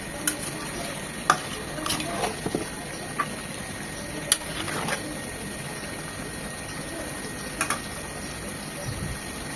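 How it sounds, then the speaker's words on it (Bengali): Potatoes, tomatoes and chicken cook in a spice masala in a pan, giving a steady soft sizzle broken by scattered clinks and scrapes of stirring, close and moderately quiet, with no talking. "আলু, টমেটো, চিকেন এগুলো আরও 4 থেকে 5 মিনিট এই মশলার সাথে কষিয়ে নেব"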